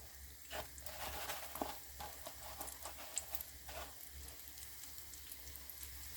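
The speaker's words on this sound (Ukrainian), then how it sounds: "покладу сюди і обсмажую з двох боків" Battered eggplant pieces fry in a pan with a soft, steady crackling sizzle and scattered faint pops, quiet and close with no talk.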